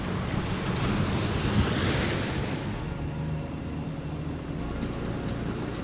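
Ocean surf rolls and washes steadily along the Konkan coast of Maharashtra near Kunkeshwar, loud and continuous, with wind buffeting the microphone and a faint voice speaking briefly near the end.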